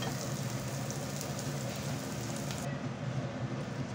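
Onion and chilies fry in a pan for a shrimp dish, giving a steady, close hiss and crackle of sizzling oil with no break.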